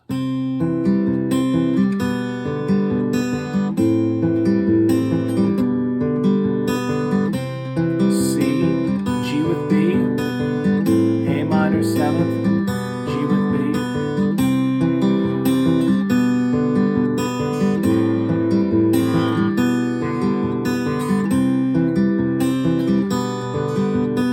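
Acoustic guitar plays a Travis-picked chord progression, individual plucked strings alternating in a steady rhythm, close and clear, with no voices.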